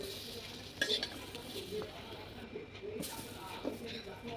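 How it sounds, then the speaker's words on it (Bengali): Pointed gourd (potol) frying in a small amount of oil in a pan, a soft steady sizzle with occasional stirring scrapes and utensil clinks, with some voice in the background. "দুইবারে পটল দিয়ে ভেজে নিচ্ছি।"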